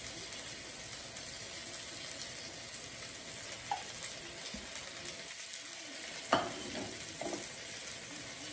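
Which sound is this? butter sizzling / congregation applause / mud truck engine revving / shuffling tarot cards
butter sizzling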